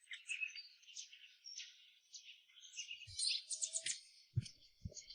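Birds chirp and tweet in the trees, a steady stream of quick, high calls at moderate volume, with a few low thumps near the end.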